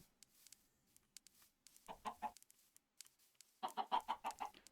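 Chickens in modded Minecraft cluck in two short bursts of quick, choppy clucks, close and fairly quiet, separated by soft taps and near-silence.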